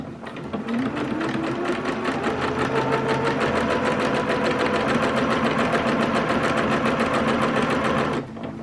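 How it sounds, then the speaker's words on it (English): A sewing machine stitches a long seam down a trench coat, running in a fast, even mechanical rhythm for about eight seconds up close before stopping, with no talk. "I'm going to stitch a line all the way down here."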